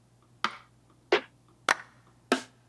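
Four crisp, dry clap hits from a drum-kit sample ring out one at a time at an even, unhurried pace, each a sharp snap with a short tail over faint background hum.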